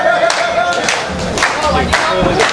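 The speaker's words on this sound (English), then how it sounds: "Crowd rallying behind Vega." A wrestling crowd cheering for Vega during a championship match, a steady arena roar with rhythmic clapping bursts and shouts spread across the clip.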